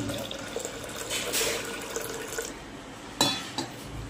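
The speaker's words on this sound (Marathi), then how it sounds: "पाणी ऍड करून घेऊ." Water is poured into a pressure cooker holding dal, a close splashing gush that swells and fades with a couple of sharp clinks near the end.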